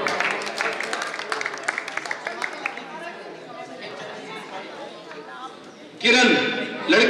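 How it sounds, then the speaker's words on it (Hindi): At a yoga awards ceremony, crowd chatter and scattered claps run along at a moderate level, then a loud burst of applause breaks out near the end and holds. "जोरदार तालियों के बीच गौरव"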